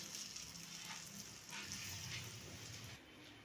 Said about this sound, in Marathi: आपण सर्व आळवड्या तळ तळून घेऊया